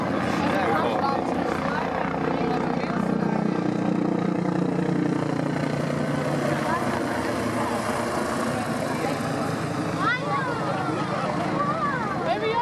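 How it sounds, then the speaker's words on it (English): Helicopter at an outdoor air display, a continuous broad engine and rotor roar lasting throughout, loud and steady, with crowd voices and talk mixed in. "We are heading over to go and have a look at the helicopters which have landed"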